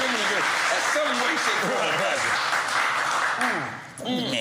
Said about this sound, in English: Yeah, clap that shit.